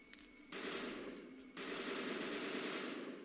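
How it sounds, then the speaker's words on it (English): Bursts of automatic gunfire in a first-person shooter game, rapid and dense, arriving as two sustained volleys, loud and close, with no talking. "They're shooting."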